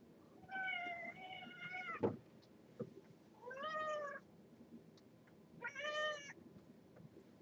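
A cat gives three drawn-out meows, the last loudest, with short gaps between them and a soft click in a quiet room.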